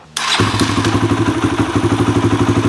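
A Kawasaki KLX140 dirt bike engine, adjusted after running lean, coughs to life after a thump and settles into a steady, pulsing idle, loud and close.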